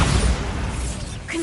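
A spell blast bursts at the start, a broad booming explosion that tails off into a rumbling wash, followed by a brief whooshing flick near the end, all from a fantasy video game.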